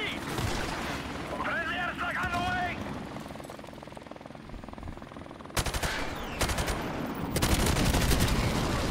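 Carbine fire from Call of Duty Modern Warfare Remastered in a multiplayer Domination match breaks into rapid bursts late on, after a quieter stretch. A droning, helicopter-like background sits underneath.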